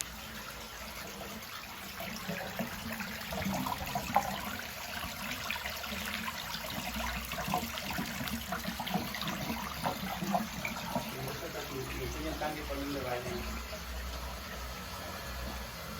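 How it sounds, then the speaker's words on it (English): Aquarium water from a 65-gallon barb tank rushes fast through a hose into a bathtub, a steady continuous gush and trickle heard fairly close and moderately quiet, with no talking. "So you could hear the water does come out quite fast."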